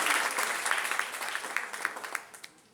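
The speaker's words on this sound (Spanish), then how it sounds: "Fuerte el aplauso para Él." A church congregation claps loudly and steadily during a healing service, the applause dense at first and then fading out with a few scattered final claps.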